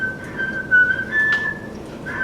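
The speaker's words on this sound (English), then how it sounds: "Listen to that kid whistle." A seven-year-old child's whistling is played back on a dictation recorder, a thin sustained tone over a steady hiss, slightly boxy and mid-distance, without talk.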